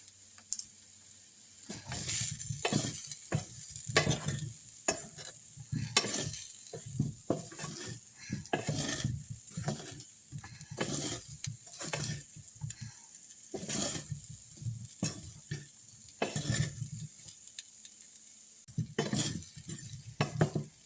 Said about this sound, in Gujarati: થઈ ગયા છે આપણા બટેટા ફ્રાય.